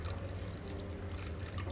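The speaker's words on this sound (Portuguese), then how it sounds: "Olha que fofo ele bebendo aguinha" A cat laps water with soft, faint, wet trickling and dripping sounds, quiet and close, with no voices over it.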